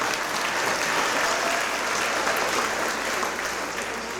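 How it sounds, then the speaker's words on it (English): Steady, dense applause from a large audience at a chamber of commerce awards gala, filling the room evenly for several seconds and easing slightly at the end. "Let's give them a round of applause as well"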